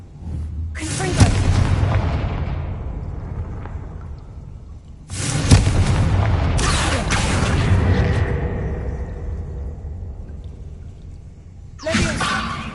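Fire-blast explosions from the Confringo spell in Hogwarts Legacy on PS5, three loud booming blasts with long rolling rumbles, the middle pair close together and a final sharp burst at the end.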